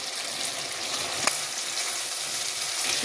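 Cauliflower pieces go into hot oil in a pan for a chicken chow chow, giving a close, steady sizzle and hiss with one sharp crackle partway through.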